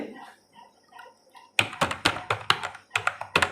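Name being typed on a computer keyboard while filling in a form: a quick burst of crisp, close key taps, a little uneven in rhythm, following a few soft quiet sounds.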